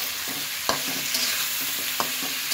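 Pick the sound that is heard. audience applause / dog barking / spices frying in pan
spices frying in pan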